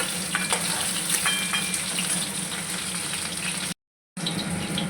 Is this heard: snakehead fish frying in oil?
yes